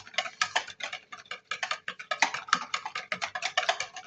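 A hand whisk beating bubblegum ice cream mixture toward soft peaks in a bowl, rapid close rhythmic ticking strokes in irregular bursts, alone with no voices.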